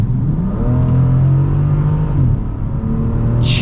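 A Bentley Continental Supersports with over 600 horsepower accelerates hard from inside, its engine note climbing loudly, dipping briefly at a gear change, then rising again in a strong, close roar.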